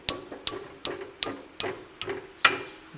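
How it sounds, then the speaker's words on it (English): Metal U-bolt clamped in a vise and bent over with a hammer, seven sharp ringing blows at an uneven, roughly half-second pace, close and distinct with no talk. "Then we're just going to bend it over."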